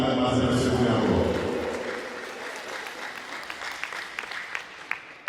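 Applause for an 80th birthday celebrant, a loud burst of clapping that fades over several seconds into scattered claps and a few sharp knocks, with an announcer's voice over it.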